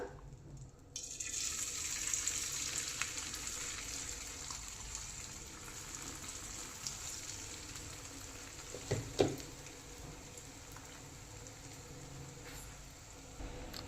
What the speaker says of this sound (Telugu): చూడండి మన క్రిస్పీ కార్న్ బాగా వేగుతుంది ఇంకా బాగా వేగాలి